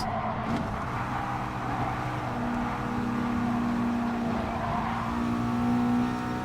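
Race cars on the Big Willow desert circuit in Gran Turismo Sport, with engines droning and revving steadily throughout, several cars running close together with a continuous, loud motor tone and no talk.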